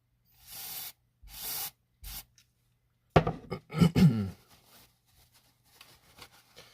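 Contact cleaner sprays into the power switch of a Game Boy Color in three short close hissing bursts. Softer rubbing and clicking handling sounds follow.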